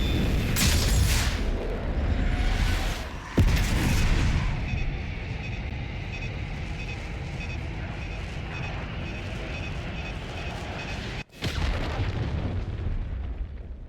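Bomb explosions in the Call of Duty: Black Ops 6 campaign, a deep rumbling blast opening with heavy booms, another sharp crack a few seconds in, a long rolling roar, then a final abrupt impact near the end.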